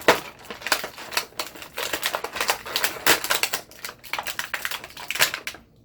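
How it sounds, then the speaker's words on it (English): Plastic packaging crinkles and crumples while Bandai Power Rangers Legacy Mighty Morphin figures are unboxed, giving dense, irregular crackling bursts close to the microphone with no voices. "Sorry about all the crumply noise"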